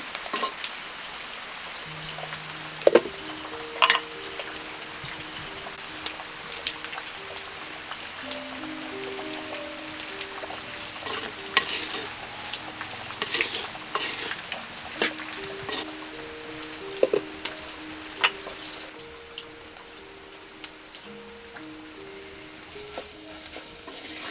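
Tomatoes and ground chili paste frying in a pan, a continuous crackling sizzle with frequent stirring scrapes and clicks, plus some faint tonal sounds in the background.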